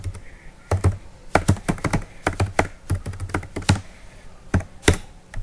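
Typing on a computer keyboard, with close, crisp key clicks in quick irregular bursts and short pauses between words, loud and alone.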